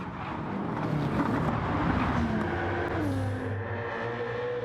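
A BMW race car at Bathurst climbs the hill, its engine droning steadily at full load, rising in pitch as it accelerates, with other car noise mixed around it.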